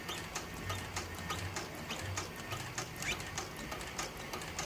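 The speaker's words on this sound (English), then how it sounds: "And then we're just going to stitch the perimeter around the paddle here." A sewing machine stitches around the perimeter of a paddle, giving a steady rapid mechanical chatter with a rhythmic thump, close and continuous.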